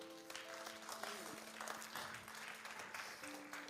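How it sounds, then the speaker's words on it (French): A church congregation applauds in a steady, diffuse wash of clapping heard from a distance, with faint sustained tones sounding underneath. "Vous pouvez vous applaudir."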